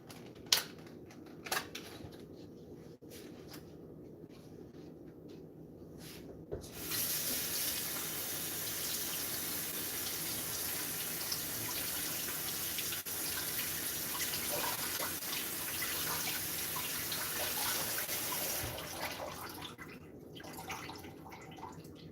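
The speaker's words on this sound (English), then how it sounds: "wash off my blueberries real quick." Tap water runs steadily into a sink while blueberries are rinsed for most of the stretch, with a few light knocks and clatters before and after the flow.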